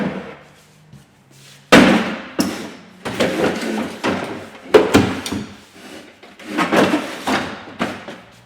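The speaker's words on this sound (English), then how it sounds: "Right, I'll just spin this door round once again" A Ford Mondeo Mk4 driver's door, stripped down during a repair, is turned over by hand, giving a series of close, loud knocks and clunks of the metal panel against a surface.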